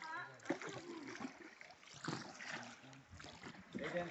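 A wooden boat being rowed on water, with faint splashes and sloshing from the oars in a slow irregular rhythm, mostly under people talking, including a voice.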